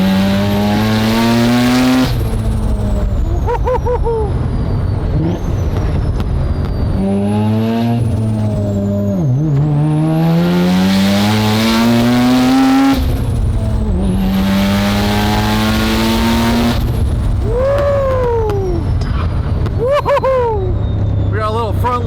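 A Porsche driven hard in rally style, engine revving high through repeated gear changes with tire noise as the front wheels lock, loud and close throughout with occasional voices.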